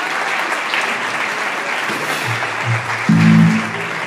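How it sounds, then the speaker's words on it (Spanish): A concert audience applauds steadily for a jazz group at an anniversary show, with continuous dense clapping and a few low voices and musical tones rising briefly near the end. "Fuerte el aplauso"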